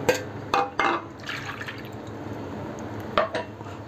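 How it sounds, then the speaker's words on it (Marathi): Water poured into a Maharashtrian okra tikhale gravy in a pan, a few sharp clinks followed by a close liquid splash and trickle that settles into a softer bubbling, with no talk. "तर थोडंसं मी आता पाणी घालते आणखीन।"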